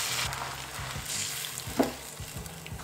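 Coconut milk goes into a pan of chicken cooking for Quaker oats yellow chicken, giving a steady close sizzle and frying crackle with a few stirring clinks and a brief louder splash partway through.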